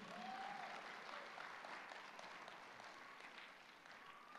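An audience claps and cheers during a stand-up comedy set at an Islamic convention. The applause is sustained and fairly distant, and it tapers off slightly over a few seconds.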